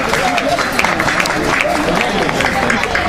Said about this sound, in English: How about a nice round of applause?